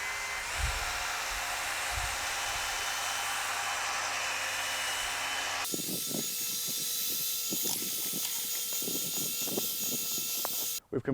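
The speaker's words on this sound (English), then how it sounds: "Start with your mixer at the very bottom of the drum" A drum mixer stirs pavement sealer inside a drum, starting at the bottom, with a loud steady motor whine throughout and churning, sloshing knocks in the second half.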